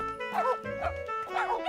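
Cartoon dogs bark and yip playfully in quick repeated bursts, several lively close barks in a row, with speech mixed in.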